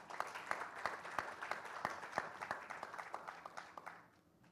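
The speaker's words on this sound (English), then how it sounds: "One round of applause for this audience," An audience claps at a conference panel during a women's real estate awards conclave, giving a scattered round of distinct, close hand claps in an uneven rhythm that thins and fades out near the end.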